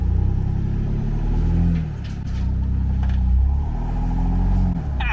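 A Ford Bronco engine revs under four-wheel drive off-road, a loud close rumbling drone that rises, dips briefly and climbs again.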